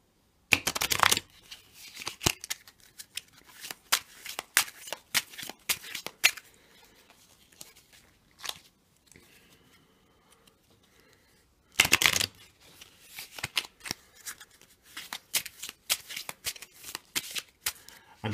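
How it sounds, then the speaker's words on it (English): Game cards being shuffled for a board game, crisp riffle bursts and soft flicking and sliding of cards close by, in repeated bouts with a brief quiet pause midway. "now I'm going to shuffle the country card with the"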